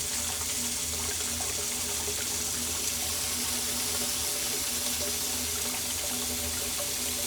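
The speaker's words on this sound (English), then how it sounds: "there's absolutely water in the pipe, and it's absolutely filling up" Water steadily fills a 4-inch home sewer pipe fitted with a check valve, a constant even rushing and hissing that lasts throughout with no pauses.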